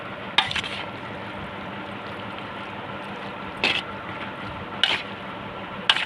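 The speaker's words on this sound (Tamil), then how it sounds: "இதை வந்து நல்லா கிளறி கொடுத்துக்கோங்க லைட்டாக" Tamarind rice (pulisadam) mixture being lightly stirred, with a low steady wet rustle and a few short scraping clinks of the spoon against the vessel spaced through it.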